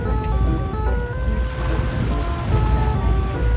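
A rubber boat tour with bus-style seats setting off on water toward a waterfall, a loud engine drone with tonal hum over rushing water and wind noise, continuous throughout.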